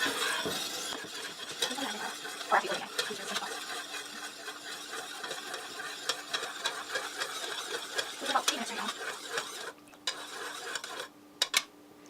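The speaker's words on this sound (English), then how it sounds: "So I'm gonna stir for a good 5 minutes." Quick, steady stirring of raindrop cake mixture in a pot, a continuous scraping and light clinking of utensil against the container for the whole stretch, close and fairly quiet.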